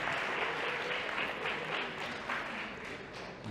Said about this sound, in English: Let's give a round of applause to our friend.